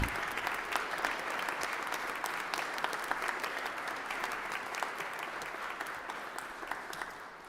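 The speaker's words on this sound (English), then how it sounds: "All alumni, so we give you a round of applause." Sustained applause from an audience at a Founders Day convocation honours standing alumni, a steady, even wash of many hands clapping throughout, fairly distant and with no talk over it.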